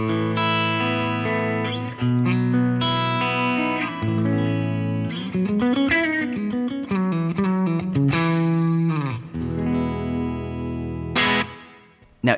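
Electric guitar through a Matchless Independence 35 tube amp, clean but just starting to break up, playing chords and picked notes with a slight gritty edge, ringing out alone.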